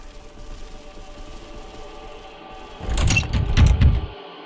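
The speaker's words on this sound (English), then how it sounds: "The door is held shut by some kind of powerful force." Door in the horror video game Fatal Frame II: Crimson Butterfly, held shut by a powerful force, rattles in a short burst of loud thumping jolts over quiet ambient drone, then falls silent.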